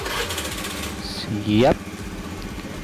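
A motorcycle with a repaired dry battery is turned over on its electric starter, a short whirring crank that catches into a steady idle, mixed with talk and background noise throughout.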